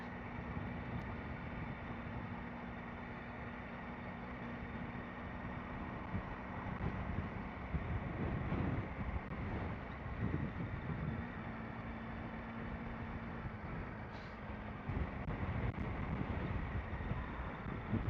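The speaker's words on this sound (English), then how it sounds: "It's very windy." Steady wind at the seaside in Scarborough rumbling across the microphone with low motorbike engine drone and distant busy crowd bustle underneath, gusting louder in the middle and near the end.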